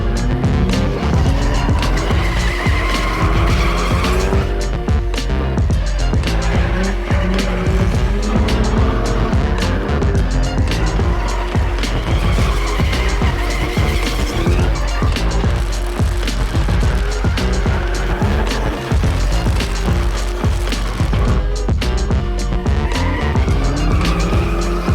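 A drifting car with loud tire squeal and skidding over steady engine noise, continuous and dense throughout with no talking.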